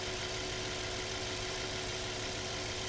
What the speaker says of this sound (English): Very healthy sounding motor.